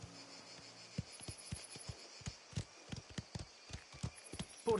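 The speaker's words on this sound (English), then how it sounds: "Is that your horse or theirs?" Horse hooves clip-clop in the video game Mafia: The Old Country, a fairly regular run of sharp, close hoofbeats over a low background hum.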